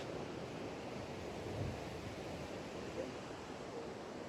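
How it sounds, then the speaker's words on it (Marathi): Steady wash of ocean surf at Harne beach in Dapoli on the Konkan coast, a continuous even roar mixed with wind buffeting the microphone, fairly faint and unbroken, with no clear individual wave breaks. "और ये रहा बीच।"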